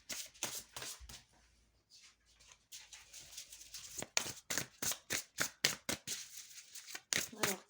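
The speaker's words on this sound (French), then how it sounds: "Et puis je vais tirer une ou deux autres cartes du tarot." Tarot cards being shuffled and drawn, a run of crisp riffling and snapping card sounds, quiet at first and then a close, rhythmic series of sharp flicks, with a voice speaking at times.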